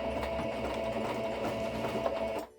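Sewing machine running a straight stitch on jeans being turned into a skirt, a close steady whirring rattle that holds for over two seconds and then stops abruptly.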